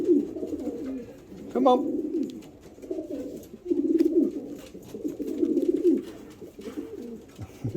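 Pigeons coo in a loft in soft repeated low bursts, close by, with someone speaking briefly over them.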